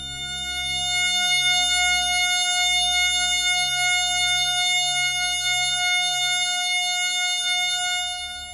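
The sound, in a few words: synthesized tones forming F sharp major chord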